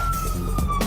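An emergency vehicle siren wails steadily on a Los Angeles street, a sustained, slowly falling tone heard from inside a moving car over road rumble.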